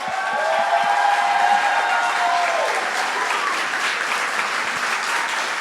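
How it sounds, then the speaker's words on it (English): An audience at a poetry showcase applauds the tech crew with steady, loud clapping and a few cheers, sustained evenly from start to finish. "I want you to put your hands together for our tech crew."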